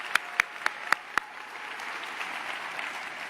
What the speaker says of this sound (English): Let's give Mr. Alberts another round of applause.